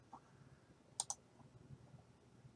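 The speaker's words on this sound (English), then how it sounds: "I'm going to right click on my chart" A computer mouse gives a quick double click, two crisp faint snaps close together in a quiet room with a few softer ticks around them.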